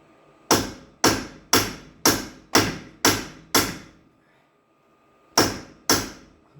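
Hammer blows strike a stuck hub on a Jaguar XF, with seven sharp metallic whacks at a steady pace, a pause, then two more, loud and close.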